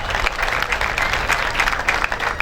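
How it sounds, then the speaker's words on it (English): Audience at a formal government address giving a special round of applause, dense, loud clapping from many hands sustained across the whole stretch without speech. "I need a special hand clap."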